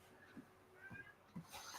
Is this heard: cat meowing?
yes